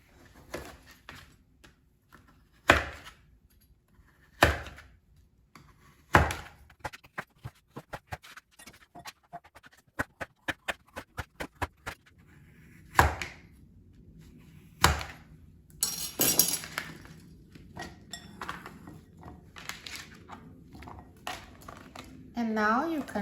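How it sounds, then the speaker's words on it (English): Knife chopping delicata squash into pieces on a board, with sharp, separate thunks, a quicker run of light taps in the middle and more scattered cuts after, close and fairly quiet. "So now I'm going to cut the squash into pieces."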